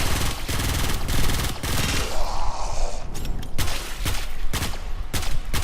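Rapid gunfire from a Supra Vandal rifle in a video game, with loud, close shots in quick bursts and short gaps between volleys.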